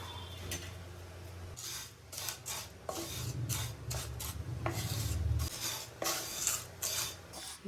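Vermicelli being toasted in butter and ghee over low heat, with a spoon scraping and rubbing against the pan in uneven strokes over a soft background sizzle. The sound is fairly quiet throughout.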